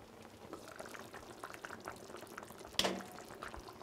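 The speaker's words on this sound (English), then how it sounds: "So we're going to let it simmer for 45 minutes." Brown stew fish with potato simmering in a pot on the stove, a steady low bubbling under light kitchen clatter, with one sharper knock of a utensil against the pot near the end.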